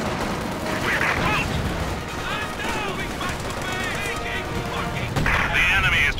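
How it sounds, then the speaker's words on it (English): Gunfire in the Company of Heroes 2 video game crackles as a dense, continuous rattle of distant shots and bursts, mixed under shouted soldier voices and battle noise. "We're taking fire!"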